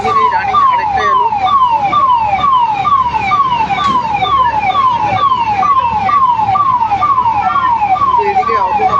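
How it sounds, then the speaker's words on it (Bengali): A fire engine siren wails loudly and close in a repeating rising-falling cycle at a night-time market fire in Ramgarh bazar around 2 a.m., with a low rumble of vehicles beneath. "এখানে একটা ইঞ্জিন এই যে সবে এসেছে"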